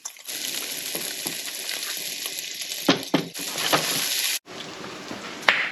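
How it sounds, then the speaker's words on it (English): Pancetta fries in a pan with a steady, close hiss of sizzling fat, broken by a few stirring scrapes and a brief drop in the sizzle near the end. "Just cooking up this pancetta."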